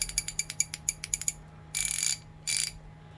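Armstrong USA round head heavy-duty twin pawl ratchet, freshly lubricated, turning with a quick run of crisp close clicks, then two short bursts of rapid buzzing ratchet action with brief pauses between.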